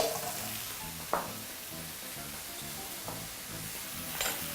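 Ground ginger and a little tomato paste sautéing in a pan over high heat give a steady, close sizzle, with a few brief scraping stirs of a utensil across the pan.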